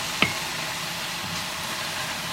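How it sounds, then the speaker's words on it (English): Spinach sautéing in a pan, a steady, even sizzling hiss that runs throughout, with one sharp utensil click near the start and no talking. "what we're doing right now is just sauteing up some spinach"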